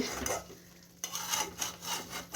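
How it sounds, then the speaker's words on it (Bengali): A coconut sweet mixture of coconut and milk is stirred in a pan, giving soft, close scraping and rubbing strokes in a steady rhythm with a faint sizzle underneath and no talk. "হয়ে এসছে মা এখন একটু নাড়ছে"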